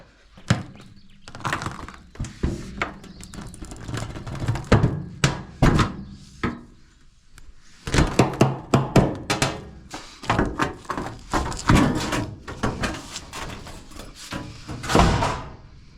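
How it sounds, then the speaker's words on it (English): A bottom sheet of metal flashing is pushed and pried off a shipping container house, giving a dense run of loud metallic bangs, thunks and rattles with brief pauses, close up and with no talk. "I just want to remove this bottom sheet of flashing so that I can get materials up here"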